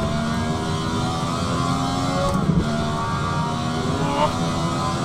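A Ferrari 312T Formula 1 engine in Assetto Corsa drones steadily at high revs, a continuous loud mechanical whine with brief blips and pitch shifts around rev-matched downshifts, with no talking.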